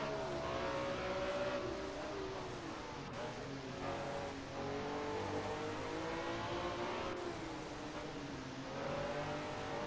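Group A1 race cars, including a WRX, battle on track, a steady engine drone with rising and falling revs from an onboard position, with no talk heard.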